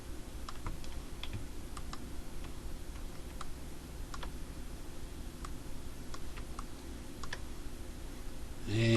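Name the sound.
typing and pressing keys on a computer keyboard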